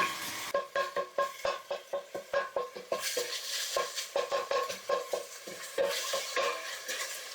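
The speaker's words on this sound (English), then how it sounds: "The onions have been sauteing for about 5 minutes." Onions and garlic sautéing in a pan, a spoon scraping and stirring in quick repeated strokes over a soft sizzle, close and fairly quiet with no talking.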